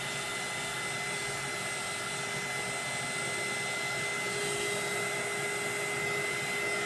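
A dryer blows a steady, even whir of hot air over a stained scrapwood shelf, constant and moderately loud from start to finish with no speech.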